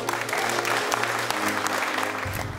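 Steady applause from a crowd fills the whole stretch, dense clapping at an even level with a low hum underneath.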